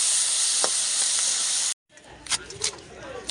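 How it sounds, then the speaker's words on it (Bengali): Beans and potatoes fry in a pan with salt and turmeric, a loud, close, steady sizzle that cuts off abruptly, followed by softer clinks and faint background sounds. "এখন এখানে দেখো সিম আর আলুটা আমি আগে ভেজে নেব।"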